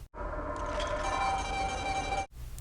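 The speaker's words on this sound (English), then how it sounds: "Frag grenade sounds like this" A frag grenade from the game Art of Wargames lands on the floor, giving a sustained metallic ringing clatter with a bright resonant tone that fills about two seconds, then stops abruptly.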